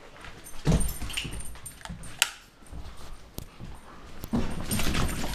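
A dog whimpers and yips in soft, broken bursts, close by and fairly quiet, with faint room noise between the cries and no talking over them.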